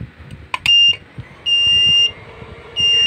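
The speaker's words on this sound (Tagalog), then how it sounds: "Tumunog po yung ating inverter, tsaka nagbabaser." A solar inverter's alarm gives three sharp, loud electronic beeps, each about half a second long and spaced apart, over faint background noise.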